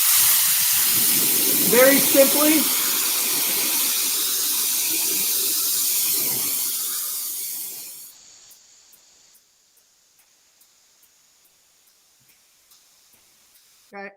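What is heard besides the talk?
aerosol spray device hissing onto arm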